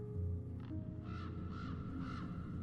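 A raven caws three times in an even, spaced sequence, fairly faint and set over a low, sustained background drone, used as an effect in a reading of Poe's poem.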